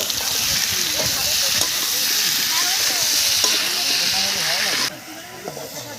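Spiced masala frying with tomatoes for a tangra fish curry, a loud continuous hiss and sizzle with stirring scrapes, dropping to a quieter simmer near the end.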